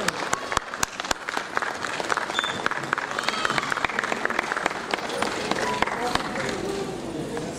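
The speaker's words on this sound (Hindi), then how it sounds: "आप सबसे निवेदन है पुनः एक बार जोरदार तालियों से अपने स्थान पर खड़े होकर हमारे गुरुजन का स्वागत वंदन करें" A standing audience at a Parshuram Jayanti gathering gives a guru a loud round of applause, dense clapping with sharp individual claps standing out, and a voice speaking over it.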